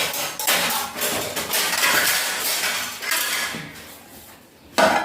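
Metal lids being set onto cooking pots on a gas stove while onion, tomato, ginger and green chili fry in oil, giving loud clanks and rattling clatter of pots and lids throughout, with a sharp final knock near the end.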